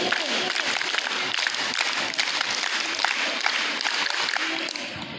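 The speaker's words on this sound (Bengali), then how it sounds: "তালি বাজাই জোরে" Loud, dense applause from a crowd of participants at a district scout camp in Mohammadpur, steady clapping filling the whole stretch with scattered sharper claps and faint voices underneath.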